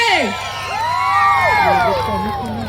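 A festival crowd at the Sirsi Utsav cheers and whoops for the dancer Pratiksha, rising shouts and whistling voices swelling over a steady background murmur, fairly loud and continuous.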